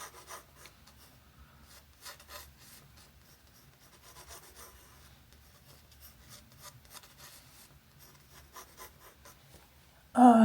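Coloured pencil scratching across paper while sketching a pinecone, a soft, continuous dry scraping of quick strokes, faint and close, followed by a sudden louder bump at the very end.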